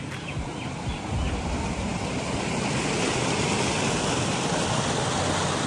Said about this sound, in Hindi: ये चश्मा है जो हर वक्त बहता रहता है